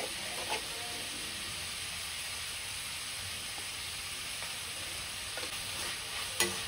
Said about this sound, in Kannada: ಇದು ಸ್ವಲ್ಪ ಮೆತ್ತಗಾಗೋವರೆಗೂ ಹುರ್ಕೋತಾ ಇರಿ